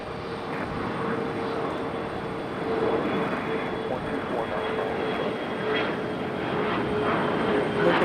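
A CRJ regional jet roars through a steep climb-out after an early rotation at Raleigh-Durham, its loud engine noise steady and broad with a faint rising whine, and a voice talks briefly over it.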